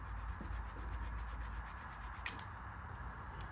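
Quiet, steady rubbing scrubs clean the mating surfaces of shovelhead engine parts, a soft repetitive swishing with a faint scrape near the middle, close and alone with no voices.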